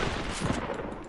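Dense, rapid gunfire from a video game, a loud continuous burst of shots close up with no talk over it.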